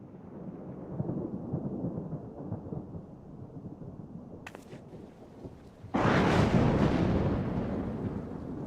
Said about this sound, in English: Ooh, thunder, here we go.